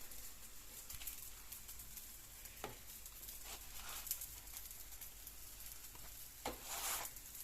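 Food cooking on an Action electric multigrill, a faint steady sizzle with occasional soft pops and short crackling bursts.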